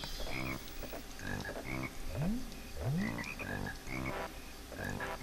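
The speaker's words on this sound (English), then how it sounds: "Is that a frog?" A frog in Banjo-Kazooie croaks over and over in a steady rhythm, roughly once a second, with a couple of rising chirps between the croaks over game music.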